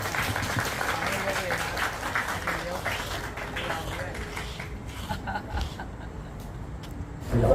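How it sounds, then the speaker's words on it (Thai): Applause for a mayor at a Thai ceremony, a steady mid-level patter of many hands clapping that slowly thins out toward the end, with traffic-like rumble and a voice underneath. "ขอเสียงปรบมือให้ท่าน นายก อีกครั้งหนึ่งครับ"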